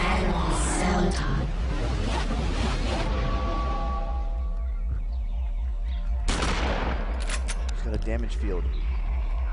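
Green shotgun firing in the Eternal Darkness video game: a few sharp blasts at the start and again near the end, loud against a steady game background.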